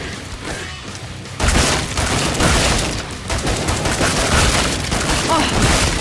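Rapid gunfire bursts from weapons in Killing Floor 2 start abruptly and continue as dense, loud, overlapping volleys of shots, with a voice talking over the din.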